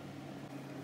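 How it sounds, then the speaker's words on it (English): A microwave oven hums steadily as it runs to melt a rice-puff bar mixture, a faint, even drone with no other sounds. "Now we're going to put it in the microwave again for more 30 seconds so it can melt"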